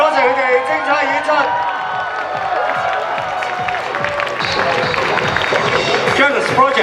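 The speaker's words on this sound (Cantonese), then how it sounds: "大聲啲掌聲、歡呼聲俾晒我哋9隊嘅不同嘅組合" A large crowd at an idol group competition final at a Hong Kong anime and games festival claps and cheers continuously, with whoops rising over the applause and a voice talking over the noise.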